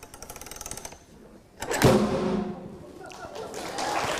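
A confined low explosive goes off in a science demonstration, one sharp loud bang that decays over a couple of seconds, preceded by a rapid clicking rattle and followed by lingering room noise.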